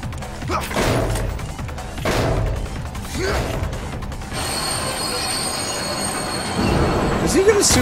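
Train wheels squealing on rails in the video game Binary Domain, a rumbling, grinding run of railcars with shrill metallic screeches rising over it, briefly under a faint voice.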